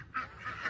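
Ducks, including Muscovy ducks, call around a yard with a few nasal honking quacks in quick succession, close and moderately loud.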